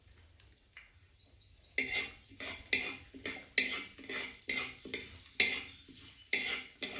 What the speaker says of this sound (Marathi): डाळ आपल्याला लाल खरपूस कलर येईपर्यंत भाजून घ्यायची